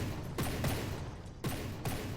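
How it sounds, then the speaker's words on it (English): Cram cannons fire big shells in the naval combat game From The Depths, with about four heavy booming shots landing in a loose, uneven rhythm over a steady low rumble. "That's one of those new cram cannons."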